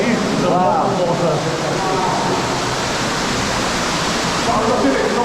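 Loud, constant rushing water inside an old metal mine in Mid Wales, a dense broadband roar like a waterfall that fills the whole space without a break.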